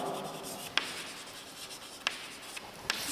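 Marker or chalk writing on a classroom board during a chemistry lecture, a steady close scratching rub with a few sharp taps as strokes start, no voices.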